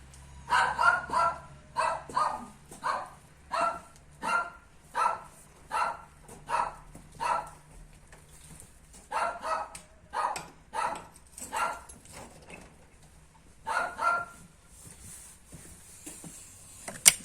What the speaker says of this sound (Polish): jak nie kury to psy, wariują.